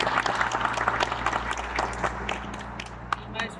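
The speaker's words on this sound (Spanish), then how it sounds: "Le damos la bienvenida con un aplauso" A small group at a Filipino martial arts workshop claps to welcome a teacher, with scattered, uneven claps over a low electrical hum and voices murmuring in the room.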